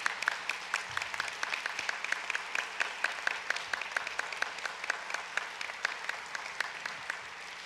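An audience at the 2018 NPM Members' Meeting and Awards applauds council members standing down front, a sustained, even patter of many hands clapping, moderately close and steady from start to finish.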